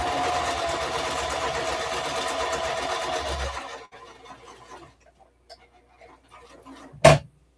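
A sewing machine stitching at a home craft table, running in a steady whirring buzz for about four seconds before stopping, followed by quiet with small handling clicks and one sharp knock near the end.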